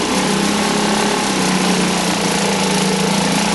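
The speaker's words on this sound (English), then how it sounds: "I'm going to go ahead and put her in start again and start her up." A small engine, turned over with the fuel and vent closed, runs at a steady high-pitched buzz, loud and close throughout with no talking.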